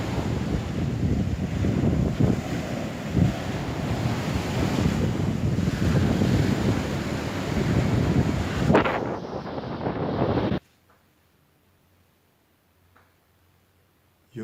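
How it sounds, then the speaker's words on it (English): Ocean waves breaking on a beach with strong wind buffeting the microphone, a loud continuous wash of surf for about ten seconds that cuts off abruptly to near silence. "you look at the sea, then you start to see something"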